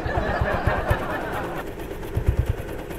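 Small 62zz motorbike engine while riding, a rapid low popping putter under heavy wind rush, with bursts of sharper pulses near the start and again toward the end.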